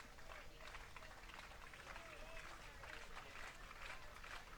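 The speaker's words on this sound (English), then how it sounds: "Crowd continues to clap." A crowd at a baseball playoff game claps in a steady wash of applause, heard faintly and at a distance, with a commentator's voice running over it.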